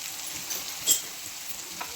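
Ground ginger, garlic and green chili paste sizzles in hot oil for vada pav filling: a soft, steady frying hiss with a few light stirring clinks, heard close but quiet.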